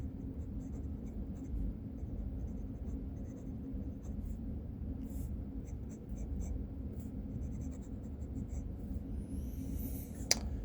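A fountain pen with a larger nib scratching across paper as it writes in Private Reserve Cadillac Green ink, a faint, close, continuous scratching over a low steady hum, with a brief sharp tick near the end.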